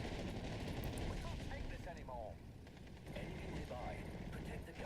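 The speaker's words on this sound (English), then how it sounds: "I'm not surprised when an ME-109 attack comes in. They strafe my infantry." Strafing machine-gun fire from an ME-109 fighter in the WWII strategy game Steel Division: Normandy 44, a dense rattling barrage that runs almost without break and dips briefly midway, with a voice talking over it.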